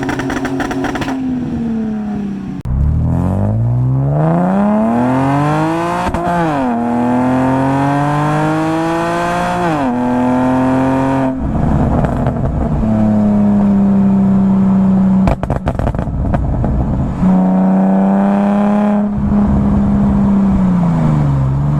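BMW N52 inline-six exhaust fitted with a secondary cat delete, Vibrant ultra quiet resonator and Megan Racing universal muffler, revving up and down repeatedly in loud, close rising and falling sweeps, with no talk.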